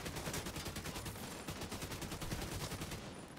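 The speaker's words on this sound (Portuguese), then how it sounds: "olha, tiroteio forte aqui" Heavy, sustained gunfire in The Division 2, dense rapid bursts of automatic shots hammering continuously and loudly with no talk over them.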